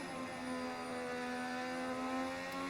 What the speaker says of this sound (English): Have the engine sounds modded?